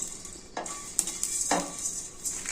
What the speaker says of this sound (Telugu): ధనియాలు, జీలకర్ర, ఆవాలు ముందుగా ఫ్రై చేసుకోవాలండి